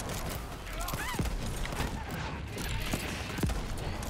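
Pistol fire in the Borderlands 3 shooter: a few sharp, separate shots ring out over a busy, noisy game mix of effects and movement.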